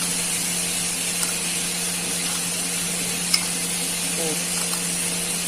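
Sliced banana and sugar stirred in a pan, a steady soft sizzle and hiss with faint stirring scrapes and one sharp clink, no voices.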